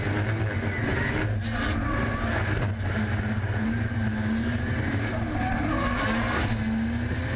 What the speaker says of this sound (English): Tyres screaming, engine screaming